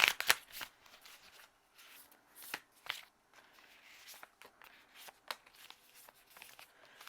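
Tarot or oracle cards are shuffled by hand in soft, close riffles and slides, with irregular papery flicks and taps over several seconds at a quiet level.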